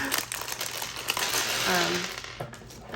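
Thin plastic packaging for drip irrigation tubing crinkling and rustling as it is opened by hand, close up, in irregular bursts, while someone talks over it.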